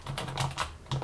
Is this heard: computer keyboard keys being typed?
yes